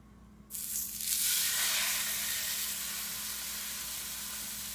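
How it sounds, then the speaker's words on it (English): Loud, steady sizzling of steak frying in a hot oiled pan, starting abruptly with a burst and settling into a continuous hiss. "Start to sizzle beautifully."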